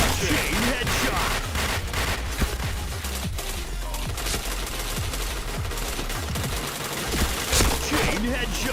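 Dense, continuous bursts of automatic gunfire from a shooter video game, with rapid overlapping shots and occasional louder blasts that keep a steady, loud barrage going throughout.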